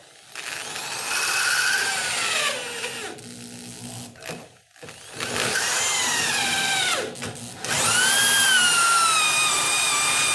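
A Kimball Midwest Cryo Gen reamer whines as it cuts into metal, a high screeching drill tone in several long bursts with brief pauses, close and loud.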